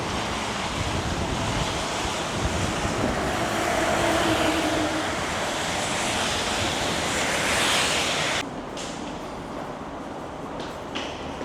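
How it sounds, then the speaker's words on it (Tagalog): Strong wind and a rough sea roar together in a dense, loud wash of noise on a stormy day on the Japanese coast, then the sound drops sharply to a quieter, softer rush. "Medyo malakas yung hangin din today."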